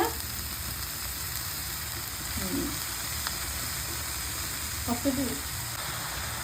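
Leafy greens fry in a pan with onion and garlic, a steady moderate sizzle with a couple of soft stirring scrapes and knocks against the pan.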